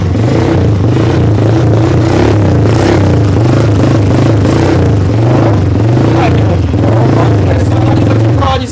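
A Chinese quad fitted with a tuned Duncan Fat Boy 4 exhaust from a Raptor 700 revs loudly up close, a throaty, pulsing rumble that holds steady and dominates the whole stretch.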